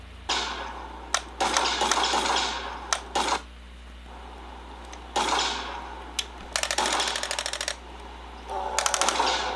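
Nextick arcade light gun firing in machine gun mode: bursts of rapid clicky mechanical shots, several short volleys separated by pauses, close and fairly loud with a steady low hum underneath.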